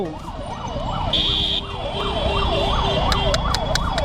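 An ambulance siren wails in a rising and falling rhythm, close and loud, while the ambulance sits stuck in heavy Delhi traffic among engine rumble and short horn blasts.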